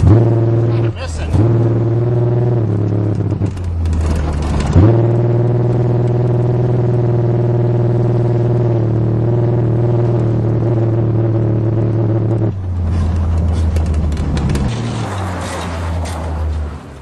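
A 1982 Toyota Cressida driving with its engine slightly misfiring, a steady low rumbling drone with a few shifts in pitch and rougher bursts, loud and close from inside the car.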